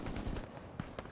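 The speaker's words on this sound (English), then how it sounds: "It's heavy fire." Heavy gunfire in the World War II shooter Hell Let Loose: a brief, loud burst of overlapping shots and booming cracks, dense and close.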